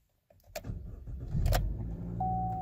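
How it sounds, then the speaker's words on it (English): A 2014 Chevy Cruze with a 1.4L turbo engine starts up: a few clicks and a short cranking burst, then the engine catches and settles into a steady close idle with a faint whine. "And we're going to go ahead and start the car now."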